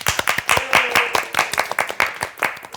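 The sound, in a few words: round of applause, hand clapping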